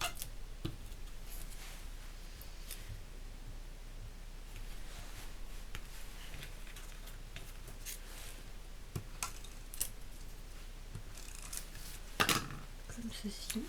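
Scissors snip through paper to cut out a New Year pop-up greeting card, giving quiet, close, intermittent crisp cuts with small rustles and one sharper snip near the end.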